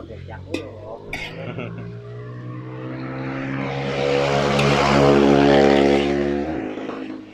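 Loud engine drone from vehicles at a race track builds steadily to a roaring peak, then cuts away sharply near the end, with a few faint knocks early on.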